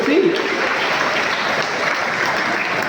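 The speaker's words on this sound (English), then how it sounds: "Give big applause to them." Steady applause from a school audience for two girls after their dance performance at an inspection event, dense continuous clapping throughout at moderate volume.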